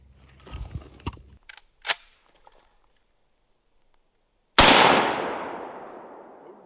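Outdoors at a target, a few small clicks and taps are followed by a single loud rifle shot from a 7.62 NATO or M16 rifle, which cracks sharply and then rings out in a long, fading echo.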